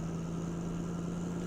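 A diesel locomotive engine in the Run8 Train Simulator game drones low and steady, laboring under load with a constant hum and no break.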